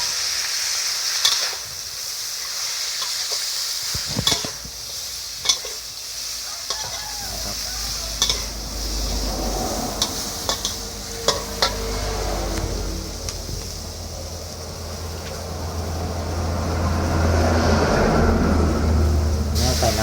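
Cabbage is stir-fried with pork in a pan, with loud, close sizzling and rhythmic scraping and stirring. Sharp knocks of a utensil come through, and the hiss swells toward the end.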